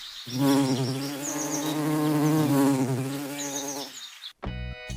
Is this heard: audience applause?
no